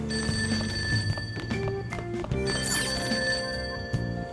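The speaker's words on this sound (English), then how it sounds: "answer the phone." A phone rings in Persona 5, a tonal electronic ringtone repeating in short bursts over layered game music, clear and fairly prominent with no talking.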